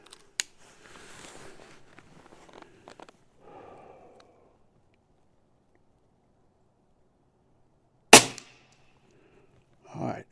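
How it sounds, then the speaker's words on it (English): A Custom UX Notos air rifle fires a pellet at a target, one sharp close crack with a second shorter report near the end, surrounded by quiet shuffling and brief faint movement. "Okay, one more shot in that group."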